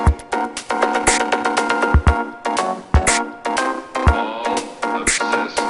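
Dubstep track built on a heavy, deep bass loop modulated by an LFO at two different speeds, with pulsing wobbles, punchy drum hits and layered synths running loud and continuous throughout.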